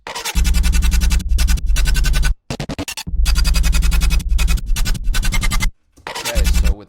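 An electronic rendition of a song with heavy bass and deep sub bass pulsing loudly, cutting out briefly a few times before kicking back in.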